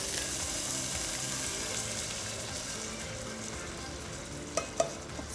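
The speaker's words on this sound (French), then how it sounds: "Sauce in the pan. On mélange." Sauce with coriander hitting a hot pan and sizzling steadily, a continuous frying hiss with stirring, ending in a few distinct utensil knocks against the pan.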